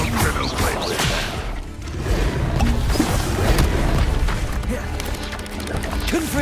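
Blasting-spell explosions in the video game Hogwarts Legacy, several crashing booms and whooshes amid continuous combat noise, with a voice shouting spell names over them.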